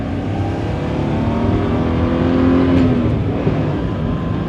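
A Geo Metro on the road, steady engine hum under way with a brief rising whine as it pulls and accelerates, fairly close and continuous, no talking.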